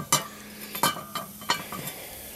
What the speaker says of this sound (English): And we'll get our lid on top.